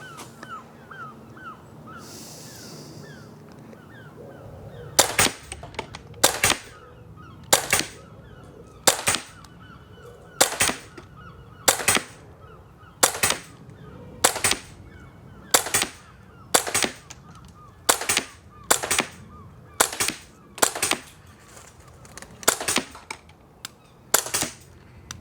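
Umarex Glock 17 Gen 5 MOS CO2 pellet pistol firing a long series of sharp, loud shots at a steady rhythm, about one every second, after a few quiet seconds at the start.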